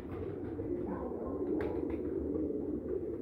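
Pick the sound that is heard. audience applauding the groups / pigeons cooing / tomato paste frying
pigeons cooing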